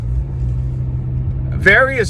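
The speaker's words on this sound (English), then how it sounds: "I'm driving alone right now." A low, steady road and engine rumble from inside a car being driven, with a person's voice cutting in briefly near the end.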